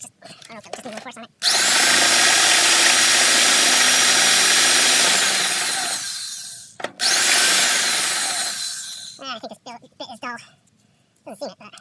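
A power drill bores through metal while a Johnson loader is mounted on a Sears Suburban 12 tractor, a loud sustained whine in two long runs with a brief pause, with someone talking before and after.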